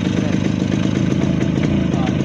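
A Honda HD3 motorcycle engine revving and misfiring after a spark plug change, loud and close, with a rough, uneven sputtering beat held steady through the short stretch.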